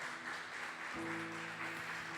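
Church congregation applauding at an Easter Sunday service, steady dense clapping filling the room throughout, with a sustained organ or keyboard tone entering midway.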